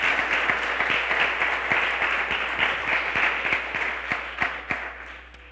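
A church congregation applauds in a large room, a dense, sustained wash of clapping with a few louder individual claps standing out, tapering slightly at the end.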